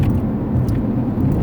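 A car rolls over a shaky, rough road, a loud close cabin rumble with rattling thumps and a brief jingle, no talk.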